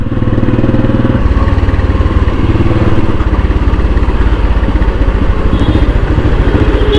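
A Royal Enfield Bullet motorcycle engine running on a test drive, a loud, steady single-cylinder thump with a rapid even beat and mechanical clatter, close and continuous throughout.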